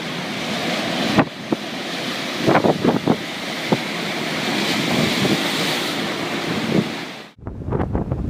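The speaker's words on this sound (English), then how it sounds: "A terrible hurricane swept in from Greenland, turning the European coastline into a massive water park." Hurricane-driven waves and gale-force wind batter the European coastline, a loud, continuous roar of surf and buffeting wind on the microphone, broken by a few sharper crashes before an abrupt cut to rougher gusts.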